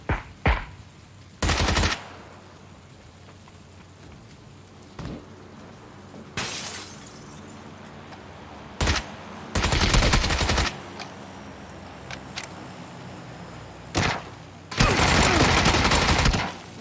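Gunfire bursts in PlayerUnknown's Battlegrounds, loud broadband volleys recurring every few seconds, some short single cracks and others sustained automatic strings lasting about a second, with quieter ambient game noise between.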